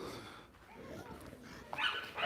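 Dogs at play give a few short barks and whimpers at moderate distance, and a louder yelp comes near the end.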